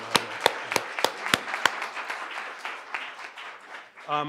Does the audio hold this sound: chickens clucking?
no